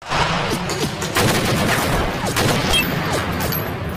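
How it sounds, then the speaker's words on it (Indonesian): A film shootout between a man and a hired killer fills the scene with dense, continuous gunfire and booming bursts, loud and chaotic with no pauses, while faint speech-like sounds surface briefly underneath. "di tengah terjadinya baku tembak antara Jack dan salah satu pembunuh bayaran yang dikirim Pak Capit."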